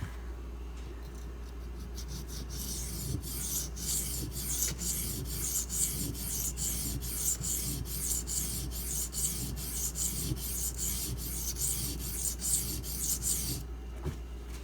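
A Benchmade 770 knife blade drawn repeatedly across a Spyderco ceramic sharpening stone, giving a close, steady run of rhythmic rasping strokes that continues almost without pause, with no talking.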